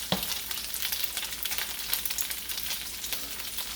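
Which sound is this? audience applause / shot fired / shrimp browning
shrimp browning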